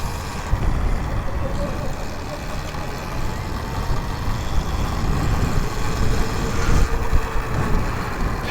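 Steady low engine drone of motorboats on open water, a continuous rumble that swells slightly toward the end with outdoor wind noise.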